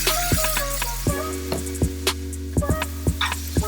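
Grilled pork belly sisig, splashed with calamansi juice, is stirred around a hot pan with the heat just cut, a steady sizzle running under repeated sharp scraping clinks of the utensil against the pan.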